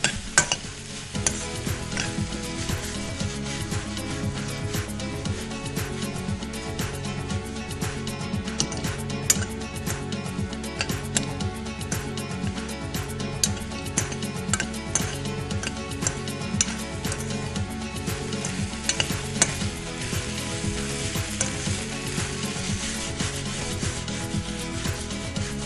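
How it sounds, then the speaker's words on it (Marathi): Okra (bhindi) cooks in a pan, sizzling steadily up close while a spoon stirs and scrapes it in a continuous rubbing rhythm for the whole stretch, with no voices. "थोडी भेंडी शिजू द्यायची छानपैकी."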